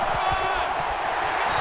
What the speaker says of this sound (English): The crowd at this stadium, always a factor in a football game.